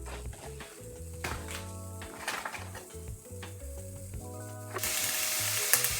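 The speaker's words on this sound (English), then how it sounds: "Just to brown the onions." Onions browning in olive oil in a pan give a steady close sizzle with intermittent scraping and stirring clatter, growing louder and brighter in the last second.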